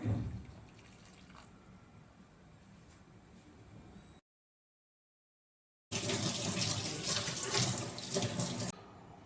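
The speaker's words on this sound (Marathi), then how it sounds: "अजून थोडंसं मी पाणी ॲड करते" Water runs from a tap in a steady rushing stream, briefly cut off, then pouring again louder and splashing into a vessel nearby.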